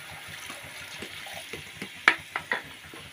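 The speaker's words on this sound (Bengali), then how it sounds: "এবার আমি এই জলটা, দইয়ের বাটিতে জল দিয়ে এই জলটা দিয়ে দিচ্ছি।" Water from a yogurt bowl is poured into a simmering Bengali egg curry gravy, giving a soft, low splashing trickle with a few brief louder splashes near the end; no one speaks.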